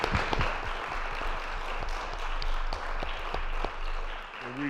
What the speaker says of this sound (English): A nice warm round of applause.